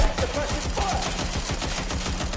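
Sustained automatic gunfire rattles through a Watch Dogs Legion firefight, a steady stream of rapid shots with overlapping bursts, loud and close throughout as suppressive fire is laid down.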